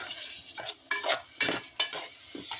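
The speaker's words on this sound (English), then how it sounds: "We're going to let those onions get soft and a bit translucent in that pan." Onions frying in a pan for a quick winter soup, giving a light sizzle broken by several sharp scraping and stirring strokes against the pan, close and fairly quiet.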